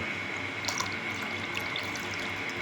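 Cold water pours from a bottle as a steady, continuous liquid stream with faint splashy detail, close and moderately quiet, being made into a roasted mango drink.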